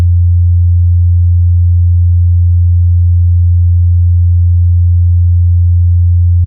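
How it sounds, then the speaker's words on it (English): Akai S950 sampler sine test tone, a single steady low pure tone held loud and unchanging for several seconds, alone with no other sounds. "So I just have to have this saved in like a sampler, S950 test tone, and you can just hear what it's like here."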